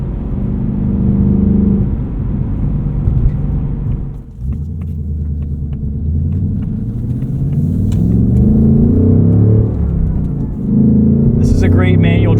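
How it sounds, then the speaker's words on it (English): A 2024 Ford Mustang Dark Horse with a Tremec six-speed manual, driven in track mode, its engine rumbling loudly and rising in pitch through two pulls with a brief dip between, a voice talking over the cabin noise. "I love the throttle response in track mode"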